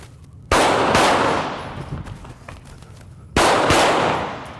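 Two sharp pistol shots crack out about three seconds apart on an outdoor range during a lateral movement shooting drill, each loud report followed by a decaying echo.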